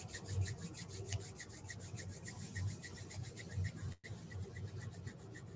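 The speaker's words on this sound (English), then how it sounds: "rub your palms" Palms rubbed together briskly in front of the chest during a breathing and meditation practice, a steady close swishing friction that continues without pause, heard alone.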